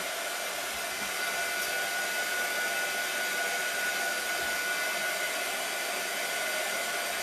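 A hair dryer runs steadily while drying freshly painted pumpkins for a fall topiary, giving a loud, constant, close whirring hiss with a faint tonal whine and no talking.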